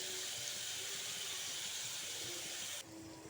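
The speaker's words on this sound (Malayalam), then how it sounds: "ഇതിലേക്ക് നമുക്ക് കുറച്ച് വെള്ളം കൂടെ ഒഴിച്ച് കൊടുത്തിട്ട്" Water pours into a cooking pan holding breadfruit and ground coconut paste, giving a soft, steady hiss that cuts off abruptly near the end.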